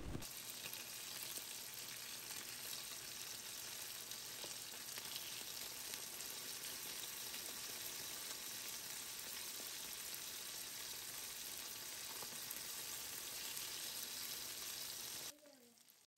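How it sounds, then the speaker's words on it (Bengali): Fish pieces frying in a pan alongside asparagus crackle with a faint, steady sizzle that runs unbroken for most of the stretch and then stops abruptly near the end. "তো এই তো ভেজে নিচ্ছি মাছগুলাকে"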